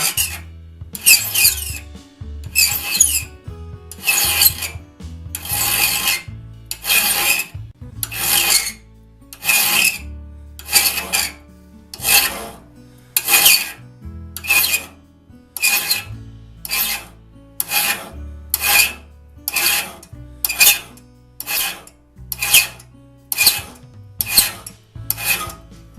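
A hand file shapes the teeth of a one-man crosscut saw in a workshop, producing about two dozen evenly paced, close, gritty rasping strokes with short pauses between them, with no talking.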